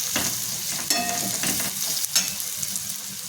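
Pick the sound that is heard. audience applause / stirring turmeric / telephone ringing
stirring turmeric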